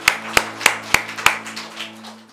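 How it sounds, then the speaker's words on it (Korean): A church congregation at a Korean Sunday worship service claps for Jesus, with five or six sharp, evenly spaced claps ringing over a sustained organ chord, then fading into softer, scattered patter. "우리 예수님께 감사와 영광의 박수 올려드리겠습니다"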